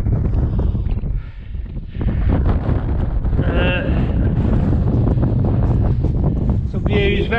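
Strong wind buffets the microphone in heavy, continuous gusts outdoors on a hillside, loud and rough with brief lulls, with faint voices underneath.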